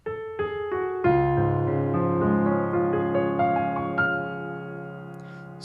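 Solo piano plays the finale of a piece, sustained chords ringing with a melody stepping over them, steady and close with no talking.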